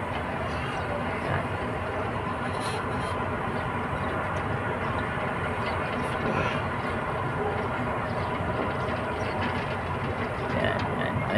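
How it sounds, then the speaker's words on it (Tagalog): Conveyor at the Manila Bay reclamation project, a continuous broad mechanical roar and hiss heard from a distance, steady and unbroken throughout with slight swells in level. "naririnig natin sa ating kinalalagyan, no, yung tunog ng kumbiyor nila."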